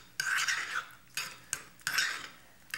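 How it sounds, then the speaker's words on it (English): Metal spoon scraping and clinking in a pan while crushed tomatoes are stirred into garlic and oil for pizza sauce: four short bursts of scraping, close and crisp, with brief pauses between and no voices. "Just going to give this a little stir to combine it all up together."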